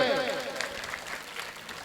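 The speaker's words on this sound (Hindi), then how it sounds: "तो आप सबके लिए एक बार तालियां हो जाए" A seated audience of families, saints and scholars at a spiritual gathering claps together, the patter of many hands swelling as a voice fades at the start, then continuing moderately loud.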